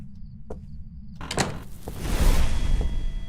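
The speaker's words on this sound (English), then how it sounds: "I heard that door" A door in the Phasmophobia ghost-hunting game opens with a soft thunk, then slides or creaks in a drawn-out swish before building into a louder rushing rumble with several muffled knocks. There is no speech.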